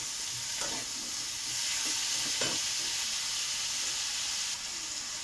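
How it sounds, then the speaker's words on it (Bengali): Chopped tomatoes added to potatoes and bitter gourd frying in a pan, a constant sizzle with a few scraping stirs of a spatula, close and alone. "এই টমেটো কুচি দিয়ে দেওয়া হলো, একটু ভালো করে নাড়বো।"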